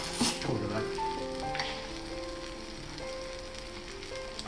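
Sizzling octopus pasta sauce in a pan being stirred, with a steady continuous frying hiss and faint scraping, no voices.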